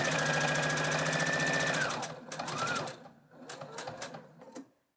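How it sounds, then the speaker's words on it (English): A sewing machine stitches around the edges of a fabric coaster. A smooth, close, steady run of about two seconds gives way to short stuttering bursts of stitches, then stops. "And then continue sewing around all edges of the coaster."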